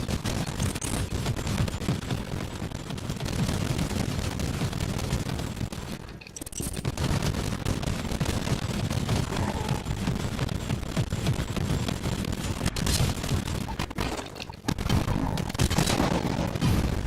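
Loud, dense weapon fire in Warhammer 40,000: Inquisitor - Martyr, mixing bullet and plasma shots, rattles almost without pause through the whole stretch, with only a couple of short breaks.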